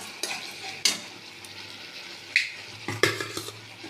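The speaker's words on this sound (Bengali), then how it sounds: "দিয়ে মশলাটা একটু কষিয়ে নেব।" Masala with chilli powder stir-fried in a pan for a chilli cauliflower dish: a soft, steady sizzle broken by several sharp scrapes and clacks of a spatula against the pan, close and fairly loud.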